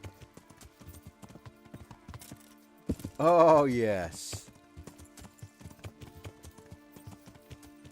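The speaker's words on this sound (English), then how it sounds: "Great horse riding there." Horse hooves clip-clop in rapid, light beats in the medieval video game Kingdom Come: Deliverance, with a loud whinny in the middle and a voice speaking briefly.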